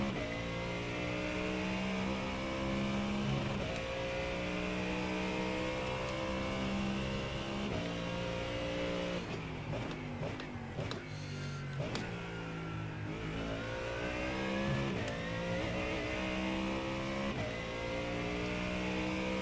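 A GT3 race car engine drives hard around Sebring in a racing game, revving loudly and steadily through gear changes with a brief lift and rough patch midway, then pulls strongly again, close and continuous.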